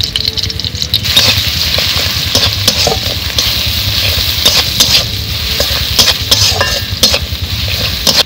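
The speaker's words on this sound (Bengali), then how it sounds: "এখন একসঙ্গে ভালো করে ভেজে নেব" Onion, garlic and dried red chili with salt and turmeric fry in hot oil, a steady close sizzle broken by repeated clinks and scrapes of a stirring spoon against the pan.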